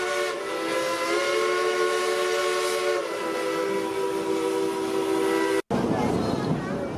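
A loud steam whistle blows a long sustained chord over a hissing rumble of a passing tourist steam train at Dollywood, Pigeon Forge, Tennessee, cutting off abruptly before the chugging and hiss continue.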